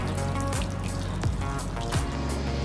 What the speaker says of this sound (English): the water draining out of the cooler